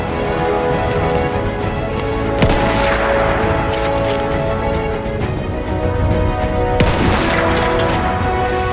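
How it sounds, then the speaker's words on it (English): Machine gun fire in Battlefield 1 closed alpha gameplay: loud, dense bursts of rapid shots and sharp cracks in a chaotic battle, sustained throughout with no talking. "machine gun!"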